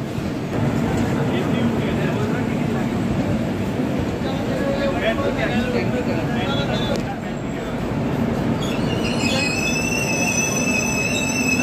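A running Jalpaiguri–Sealdah Humsafar Express passenger train gives a loud, continuous rumble of wheels on rail. Squealing and screeching wheels grow toward the end, with people talking faintly underneath.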